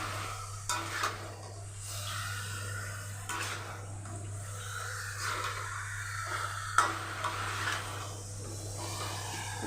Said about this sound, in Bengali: এবার চিকেনটা ভালো করে কষিয়ে নেব